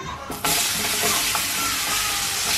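Chopped onion drops into a hot pan for a Slimming World balti chicken, a quiet moment giving way to a loud, steady sizzle with light stirring scrapes throughout.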